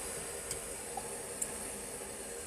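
A faint, steady hiss of water heating in a double boiler for candle making, with a few soft pops and ticks breaking through now and then.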